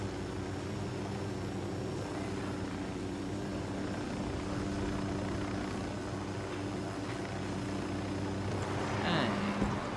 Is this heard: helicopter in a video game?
yes